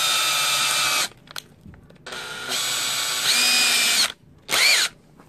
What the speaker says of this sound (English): Just a little small drill.